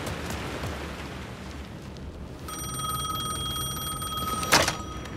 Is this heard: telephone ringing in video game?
yes